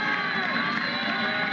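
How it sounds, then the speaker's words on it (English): Crowd cheering at a Little League World Series baseball game, a steady, loud roar of shouts and whoops from the stands, with children's voices mixed in and no pause. "Mom cheering on her son."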